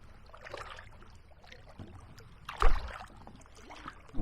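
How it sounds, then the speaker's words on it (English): A canoe paddled on the River Stour in Kent, with soft water swishes and one louder paddle splash near the middle over a quiet, breezy outdoor background. "I'm paddling quite hard."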